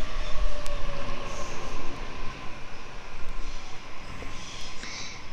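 A Waratah train pulls into Ashfield station in Sydney, heard as a steady low rumble and hiss of the train, with faint brief squeals and tones on top, continuous and fairly close, with no talk.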